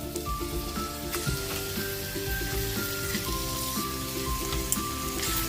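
Chicken pieces fry in hot oil in a pan, giving a loud, continuous crackling sizzle with scattered pops, while tonal background sounds run underneath and no one speaks.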